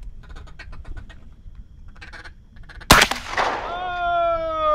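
A single loud, close shotgun blast rings out during a duck hunt combined with fishing, after quieter rustling and faint voices, followed by lingering echo and a rising tonal whine.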